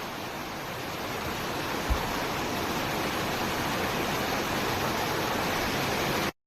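Broad, steady roar of fast river water rushing past in Rishikesh, close and continuous, with a single brief thump partway through and no voices.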